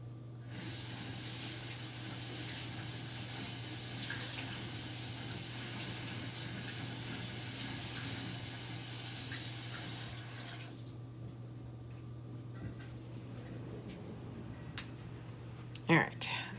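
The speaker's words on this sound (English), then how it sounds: "I'm gonna go rinse my board eraser out real quick" A chalkboard eraser is rinsed under a running tap, a steady close hiss of spraying water lasting about ten seconds before it stops, followed by a few faint clunks.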